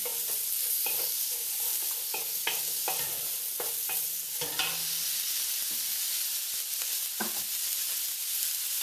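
Peppers hit a hot pan of beef noodle stir-fry with a loud steady sizzle, broken by repeated scraping and tossing strokes from a utensil, close and continuous.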